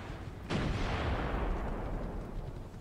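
A single sudden missile rack launch effect bursts out after a brief quiet, then a dense, rumbling roar and hiss that slowly fades over a couple of seconds.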